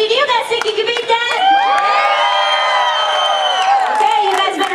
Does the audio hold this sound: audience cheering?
yes